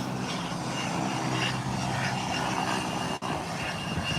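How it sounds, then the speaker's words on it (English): An American Airlines airplane rolls down the runway for takeoff at Howard Hamilton International Airport, giving a loud, continuous engine roar that holds steady throughout. "And it will be rolling down that runway for takeoff."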